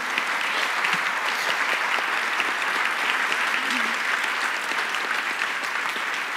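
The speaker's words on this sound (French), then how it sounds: "Merci de faire un tonnerre d'applaudissements" A thunderous round of applause from a conference audience fills the room, dense and steady throughout with no letup, loud and close.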